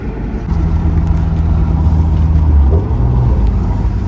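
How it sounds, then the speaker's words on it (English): Chevrolet Camaro IROCZ engine idling with an exhaust blowout, a loud steady low rumble with a sustained droning tone that shifts slightly in pitch near the end, close and alone. "I just hope y'all can hear the blowout."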